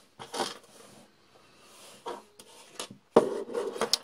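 Coil wires on a Plume Veil clone vape atomizer are snipped and trimmed, giving several short, close, dry clicks and scraping rubs separated by quiet pauses.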